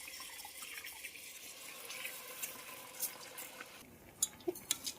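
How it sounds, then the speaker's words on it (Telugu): Water poured into a pot of rice and spices for a Sunday pulao gives a steady, soft splashing hiss, ending in a few sharp drips and clinks. "బియ్యం వేసేసుకున్న తర్వాత ఎసురు వాటర్ పోసుకుందాం"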